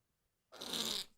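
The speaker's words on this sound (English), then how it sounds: "I'm sure someone's out there loving the fart noises" A single loud, raspy fart noise bursts out after a moment of silence and lasts about half a second before cutting off, with no talking.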